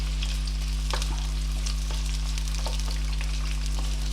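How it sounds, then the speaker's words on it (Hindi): A large onion, finely sliced, fries in a pan for a moong dal dish, giving a steady, dense sizzle with scattered crackles and pops, close and continuous without speech. "ये एक बड़ी प्याज थी जो मैंने बारीक स्लाइस कर ली थी, इसको मैं अच्छी तरह"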